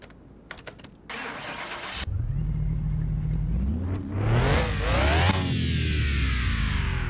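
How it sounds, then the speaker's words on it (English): An inline-six car engine in Car Mechanic Simulator 2021, rough-sounding: clicks and a cranking starter, then the engine catches and idles loudly before revving up in rising sweeps and settling back. "That's not a good sounding inline 6."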